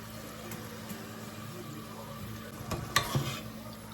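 Fries bubbling quietly in hot oil, a low steady sizzle with a couple of louder clinks near the end.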